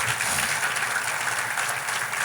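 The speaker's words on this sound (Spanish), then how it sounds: "Daré fuerte el aplauso al Señor" A church congregation applauding during a fasting service, dense steady clapping filling the whole stretch, loud and even with no pauses.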